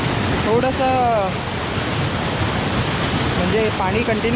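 Water gushing steadily with force through a natural pool at Lonavla, a dense, continuous broadband rush that stays loud throughout, with voices talking over it near the start and again near the end.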